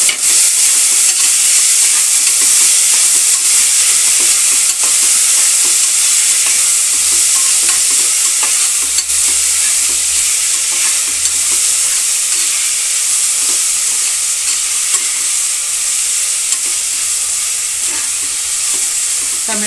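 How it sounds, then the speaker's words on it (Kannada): Tomatoes sizzle and hiss loudly in a hot pan of frying vegetable pulao, a dense, continuous crackle with faint stirring scrapes underneath and no voices. "ಟೊಮೆಟೊ 2 ಹಚ್ಚಿಟ್ಕೊಂಡಿದ್ನಲ್ಲ ಆ ಟೊಮೆಟೊನ ಹಾಕ್ತಾಯಿದ್ದೀನಿ"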